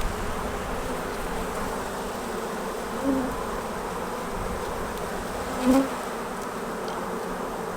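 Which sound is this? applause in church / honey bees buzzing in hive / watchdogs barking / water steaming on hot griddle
honey bees buzzing in hive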